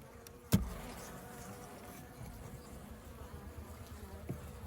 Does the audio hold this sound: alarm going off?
no